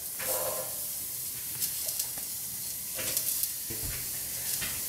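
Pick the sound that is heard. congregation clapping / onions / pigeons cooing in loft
onions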